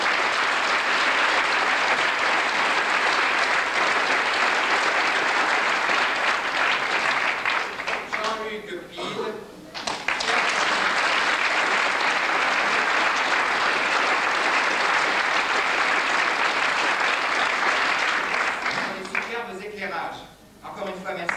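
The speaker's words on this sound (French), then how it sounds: "Encore une fois, merci, on les applaudit" A theatre audience applauds friends from the Théâtre Sébastopol in Lille, sustained loud clapping from a large crowd that dips briefly midway and near the end while voices show through.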